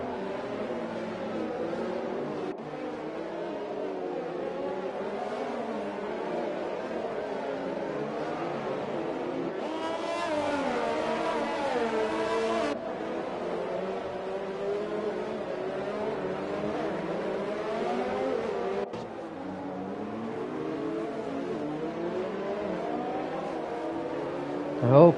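F1 cars in the F1 2020 racing game at Baku run behind the safety car, a continuous engine drone with shifting revs and a brief louder surge midway, heard under steady commentary.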